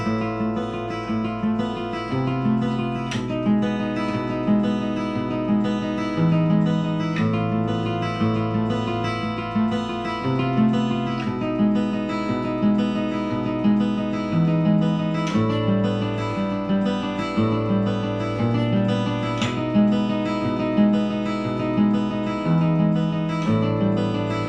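Steady fingerpicked guitar chords in a picking and fingering workout, ringing close and clear in a continuous run of arpeggiated notes with no voices.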